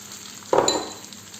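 A brief scrape and sizzle of bulgur being stirred with butter, oil and tomato concentrate in a pan, a single short burst over a quiet hiss of frying.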